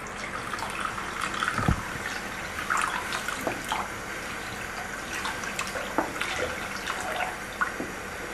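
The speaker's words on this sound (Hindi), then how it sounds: "अब मैं इसमें पानी डाल रही हूँ।" Water splashes and gurgles into a pan of cooking masala gravy, with scattered clinks and drips over a steady wet hiss.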